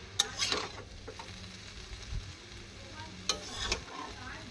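Chowmein noodles fry with onion, dry and green chillies and whole cumin, a quiet continuous sizzle punctuated by several clicking scrapes of a spatula tossing the pan.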